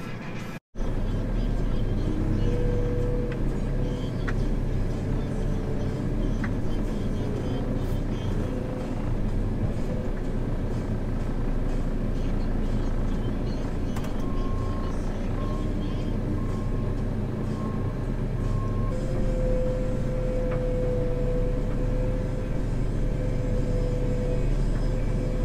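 A JCB machine's diesel engine runs steadily on a farm, a constant low rumble that stays loud and even throughout with little change in pitch.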